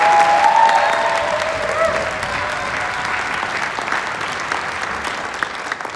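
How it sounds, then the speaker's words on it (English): A concert audience gives sustained applause for an 11th and 12th grade honor band after its performance, a full, even wash of many hands clapping that tapers gradually over several seconds. "Can we give another round of applause for these musicians on stage?"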